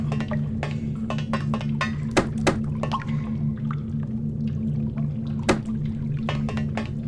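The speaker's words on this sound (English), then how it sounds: "Oh, that water sound." Water ambience from the video game Manamon: a steady low hum runs underneath, with scattered sharp drip-like clicks and splashes at irregular intervals. No one talks.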